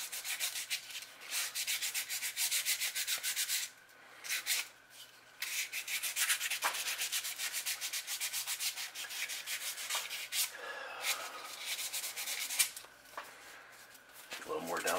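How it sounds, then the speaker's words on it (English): Sandpaper scuffs the glossy factory paint off a fishing lure before a pumpkinseed repaint, a steady close rasping rub that pauses briefly a few times, then resumes. "just scuff enough to get the shiny parts off"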